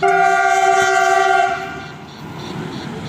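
At a railway level-crossing gate, a loud, sustained train horn blares for about a second and a half, then fades into the steady rumble of a train rolling past nearby.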